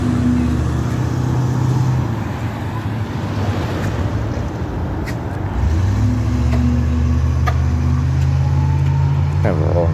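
Traffic at a road intersection, with a Ford SUV and a Ford Fusion turning through it, gives a steady roar of passing cars and engine hum with rising tones, mixed with wind noise and a person talking over it.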